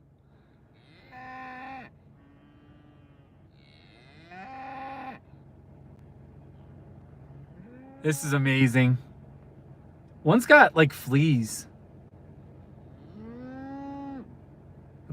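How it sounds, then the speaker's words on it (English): Cattle in a field outside town moo in long, low calls spaced across the stretch, fairly loud and nearby, while people talk excitedly between them. "That one on the right keeps mooing."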